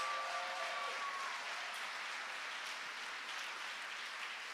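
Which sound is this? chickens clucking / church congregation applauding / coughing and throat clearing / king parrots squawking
church congregation applauding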